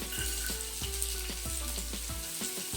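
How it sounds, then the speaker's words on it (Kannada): Garlic and ginger sizzle steadily in a spoonful of hot oil, a continuous close frying hiss broken by a few soft clinks and scrapes of stirring. "ಫ್ರೈ ಆಗಲಿ ಎಣ್ಣೆಯಲ್ಲಿ"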